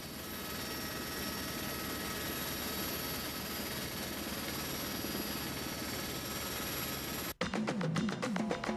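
A police helicopter's steady rotor and engine drone fills the air continuously, then cuts off abruptly near the end into a different, choppier noise.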